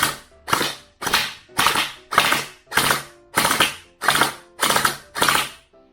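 An SLR gel blaster toy gun from the JJ brand, stock from the factory, fires ten evenly spaced single shots, each a sharp mechanical snap with a short rattle, close and loud with no talking.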